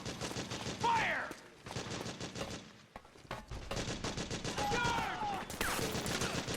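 Rapid automatic gunfire from the PS3 game Metal Gear Solid 4: Guns of the Patriots, with dense overlapping bursts that continue almost without pause and loud shouted voices mixed in.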